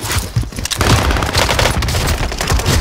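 Dense, loud video game gunfire with rapid automatic bursts and booming impacts fills the whole stretch, continuous and close, with no talk over it.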